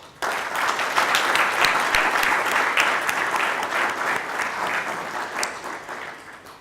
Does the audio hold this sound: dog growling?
no